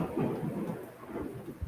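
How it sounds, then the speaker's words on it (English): Low thunder rumbles through a quiet background, a soft rolling growl that swells and fades briefly with no voices. "Was that thunder? Yes."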